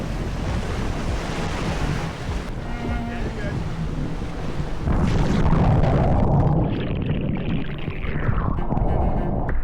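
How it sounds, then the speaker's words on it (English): Rough, churning ocean surf off Hawaii roars loud and close, with heavy wind buffeting the microphone and water rushing and splashing throughout, swelling stronger in the second half. "these waves though."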